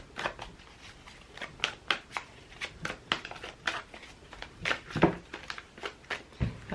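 Oracle cards being shuffled by hand during a tarot-style card reading, giving a steady run of close, crisp riffling and slapping bursts with no talking over it.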